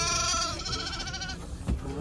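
Sheep and goats bleat repeatedly at a busy livestock bazaar in Kyzylorda, several overlapping wavering calls close by over a dense crowd murmur.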